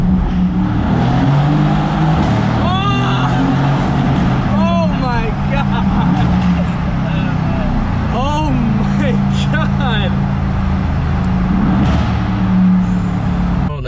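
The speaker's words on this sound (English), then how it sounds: "Let's do a little tunnel exhaust." A car's exhaust revs hard in a tunnel, booming and echoing in repeated loud rising bursts over a constant engine drone, with people talking throughout.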